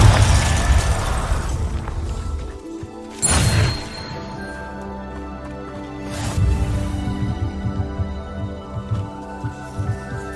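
A Confringo blasting spell goes off in Hogwarts Legacy, a loud sudden burst near 3 seconds with a second blast around 6 seconds, set over steady game music and rumble.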